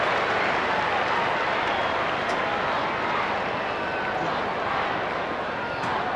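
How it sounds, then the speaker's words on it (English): A Footscray crowd applauds steadily at a 1996 AFL match against Carlton, a dense, even wash of clapping that holds for the whole stretch, with commentary over it. "And gets the applause from the Footscray crowd."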